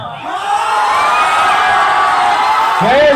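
A seminar audience of students applauds and cheers for a teacher being introduced, a dense sustained wash of clapping with whoops and shouts, loud and close throughout, with a brief voice near the end.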